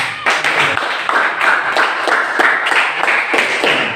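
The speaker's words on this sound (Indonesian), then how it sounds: "Kita beri aplaus dulu untuk mereka." A class applauding a student group, brisk close hand claps from several people in an uneven burst lasting a few seconds.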